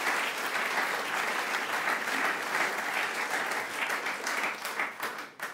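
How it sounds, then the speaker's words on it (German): Dense studio audience applause at a German comedy show rolls on steadily and fairly close, tapering slightly toward the end with no talking over it. "Großen Applaus für Tom, meine Damen und Herren."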